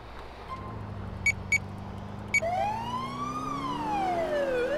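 A police car siren in the video game GTA IV with the LCPDFR mod, a steady wail sweeping up and down and growing stronger, with a few short sharp chirps before it.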